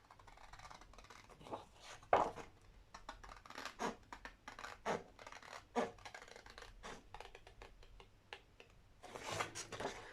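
Scissors cut through scrapbook paper for a small mini album: a string of crisp, close snips and light scrapes in uneven bursts, with no talking.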